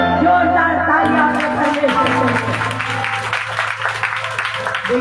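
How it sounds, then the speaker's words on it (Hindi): A congregation at a Christian prayer service breaks into loud applause, rising after a brief opening of sustained tones and voices that carry on faintly beneath the clapping. "जोरदार तालियां"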